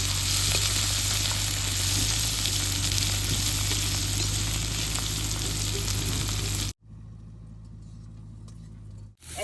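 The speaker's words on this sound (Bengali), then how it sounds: "এরকম করে পেঁয়াজটা বেশ সুন্দর করে ভাজা ভাজা করে নেব।" Chopped onion and green chili fry in hot oil with a loud, steady, close sizzle that runs unbroken, then cuts off sharply near the end, leaving a quieter low hum.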